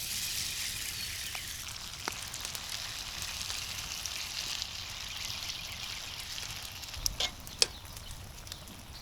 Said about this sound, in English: When the oil is hot, we add a batter to it.